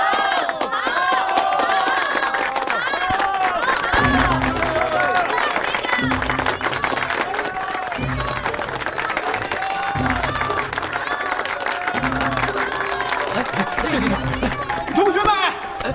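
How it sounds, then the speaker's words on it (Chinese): A film audience claps warmly to send off a lecturer after a university speech: dense, continuous applause and crowd noise, with voices talking and a pulsing low music score running over it the whole time. "下面我们请大家以热烈的掌声来欢送郑士文先生"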